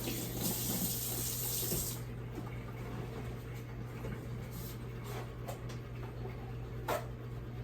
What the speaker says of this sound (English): Wash them off first. I wash off everything. Wash it off really good.